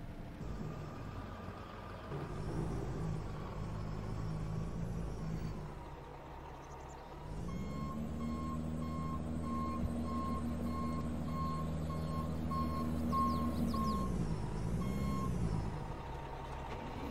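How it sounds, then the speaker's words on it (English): A dump truck in Farming Simulator 22 arrives with a steady diesel rumble that swells as it pulls in, while a high reversing beeper repeats in an even rhythm, loud and close. "Alright, the first truck has arrived here."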